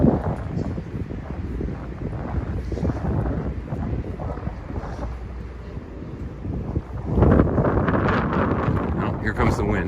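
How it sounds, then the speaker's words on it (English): Strong outdoor wind buffets the microphone in a continuous rumbling roar that swells louder near the end, and a person talks beneath it. "Oh, here comes the wind."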